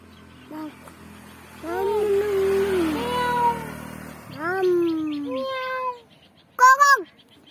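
A voice imitates a cat, giving a few drawn-out meows and then a quick, high double mew, close and fairly soft.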